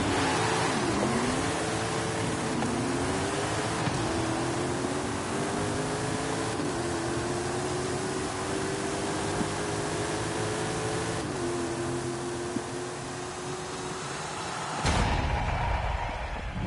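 Several race car engines rev and drone together in a video game drag race, a loud continuous roar with rising pitch sweeps as gears shift, ending in a sudden change of tone, no talking.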